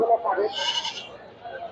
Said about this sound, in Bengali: কি পরিমাণ ছাগল উঠছে আমাদের এই হাটে